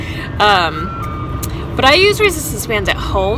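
An ice cream truck passes outside, its chiming melody sounding faintly but steadily under a person talking about resistance band workouts at home.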